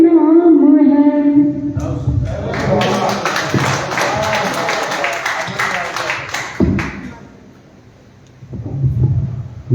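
An audience at a Hindi poetry evening in Lucknow breaks into sustained applause for several seconds after a sung verse, then it fades as a host's voice resumes.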